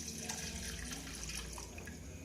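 Water poured into a cooking pot with lime for a spiced herbal drink, a steady, soft, close splashing flow that continues evenly throughout.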